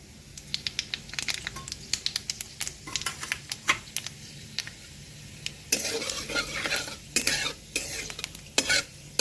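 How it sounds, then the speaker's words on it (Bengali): Panch phoron spices and chillies sizzle and crackle in hot oil for a mango pickle, with sharp popping bursts throughout and a louder, denser spell of frying near the end, close and without talk. "পাঁচফোড়নটা দিয়ে দেবো"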